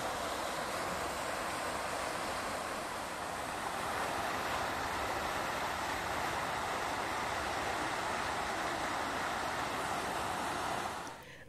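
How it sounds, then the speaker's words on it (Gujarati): Fountain water pours steadily into a park pond at Oxygen Park on Sindhubhavan Road, Ahmedabad, a loud, continuous broadband rush that holds even for about eleven seconds before dropping away abruptly. "હવે આ તળાવમાં જે પાણીનો અવાજ છે તે હું તમને સંભળાવું છું"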